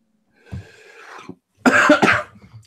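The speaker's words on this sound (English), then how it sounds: "Sorry, I got a bit of a cough." A person coughs, close to the microphone, in two bursts: a softer rough cough first, then a louder, harsher double cough after a short gap.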